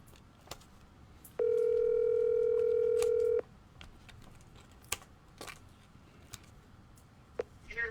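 A telephone rings once during a call as a steady, loud electronic tone lasting about two seconds, set against a quiet room with faint clicks and keyboard-like tapping.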